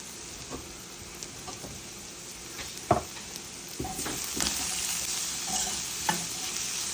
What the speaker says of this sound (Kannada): ನೋಡಿ ಇವಾಗ ಈರುಳ್ಳಿ ಚೆನ್ನಾಗಿ ಫ್ರೈ ಆಗಿದೆ ಇದಕ್ಕೆ ನಾನು ಉಪ್ಪು ಹಾಕೋತಾ ಇದ್ದೀನಿ